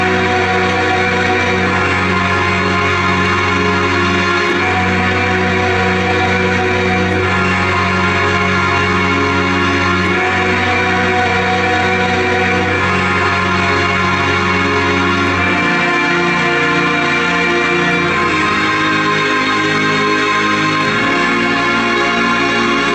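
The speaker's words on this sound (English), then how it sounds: "the right hand is a strings and brass, and the left hand is a sound called bass accordion" A Mellotron plays a sustained strings-and-brass layer in the right hand over a bass accordion sound in the left, giving a big, full chordal tone with moving low bass notes, loud and continuous with no voices.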